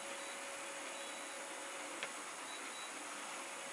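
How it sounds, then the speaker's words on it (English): A 3D printer, a Robo3D R1, runs with a faint, steady mechanical hum and whir throughout, with a brief soft click near the middle. "Versus the printer."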